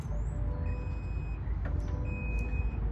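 A 2024 Chevy Silverado power tailgate lowers itself closed, sounding a series of evenly spaced, high warning beeps over a low, steady rumble of background noise.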